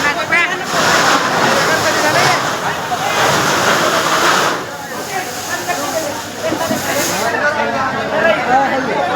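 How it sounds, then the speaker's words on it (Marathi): Water leaks and gushes out in a steady, hissing rush at a mini-market fire in Deoni, dipping briefly in the middle before surging again. "आणि लीक होणारे पाणी"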